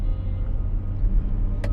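Steady low engine rumble and road drone fill the cabin of a moving car, continuous and fairly quiet, with no voices.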